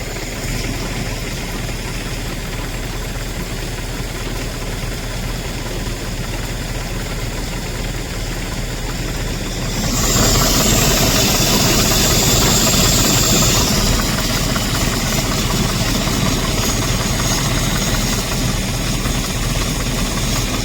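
Tractor engine running in a paddy field during pesticide spraying, a steady close rumbling drone that grows louder and harsher halfway through and then holds at that level, with no voices.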